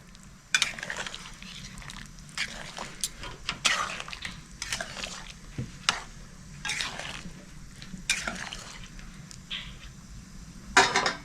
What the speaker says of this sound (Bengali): আমি এবার সুপের ভিতরে দিয়ে দিচ্ছি। দিয়ে মিক্স করে দিচ্ছি ভালো করে।